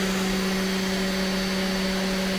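Sainsmart Genmitsu CNC 4040 Pro spindle motor running at steady speed, a loud, constant electric whine with strong even hum tones and airy fan-like hiss, unchanging throughout.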